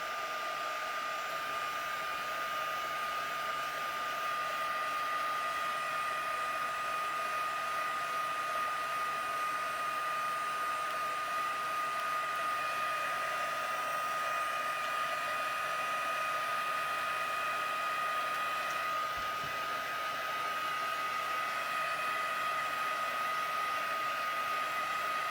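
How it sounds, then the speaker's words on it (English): A heat gun blows steadily on freshly painted craft paint to dry it, a constant loud whooshing hum that runs unbroken throughout with no talking. "I'm going to take my heat gun. I'm just going to heat these up a little bit just to make sure that's dry."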